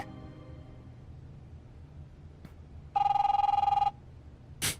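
A telephone rings once in The Wolf Among Us video game, a steady electronic trill lasting about a second over a quiet low rumble, followed shortly by a brief sharp noise.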